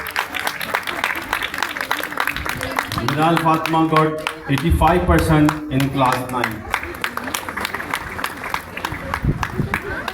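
Clapping from an audience at a school medal ceremony at Riphah College, a steady patter of many hands running throughout beneath a loud announcer's voice.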